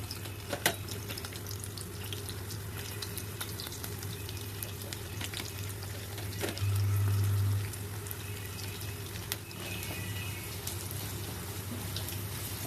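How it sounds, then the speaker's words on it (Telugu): Onions frying in hot oil in a pan for chicken dum biryani, a soft, steady sizzle with a low hum underneath that swells briefly midway, close and with no talking. "ఆయిల్ హీట్ ఎక్కిన తర్వాత ఇప్పుడైతే మనం ఆనియన్స్ వేసేసుకోవాలి"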